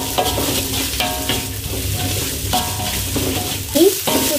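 Spice paste for chicken soto sizzles loudly in a pan while being stirred, with close, continuous frying crackle and repeated scraping strokes of the spatula, and no speech.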